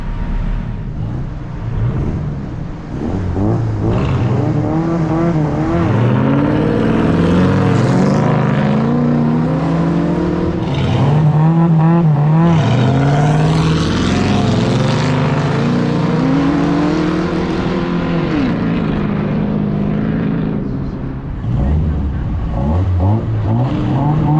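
A Geo Tracker and a trophy truck racing off-road over rough ground, engines roaring and revving hard with rising and falling pitch as they accelerate, loud and continuous, one passing close by.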